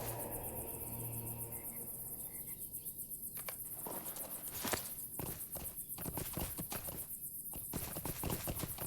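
A wayward horse's hooves clop in a quick, irregular rhythm inside the video game LOTRO, close and fairly loud over a constant insect-like background hiss.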